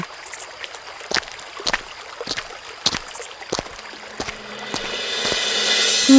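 A cartoon boat being rowed across water: regular oar strokes land about every half second with light splashing and trickling, and a rising watery rush builds toward the end.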